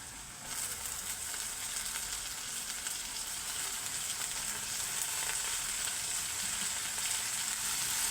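Tomato and coriander leaf bhaji, with turmeric, dried chilli and carrot, sizzles and fries steadily in a pan, a close, even hiss that holds loud throughout.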